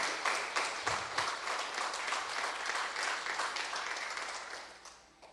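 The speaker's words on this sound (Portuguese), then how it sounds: "Eu, se fosse você, aplaudia." Church congregation applauding steadily for several seconds, dense clapping close and loud throughout, fading slightly at the very end.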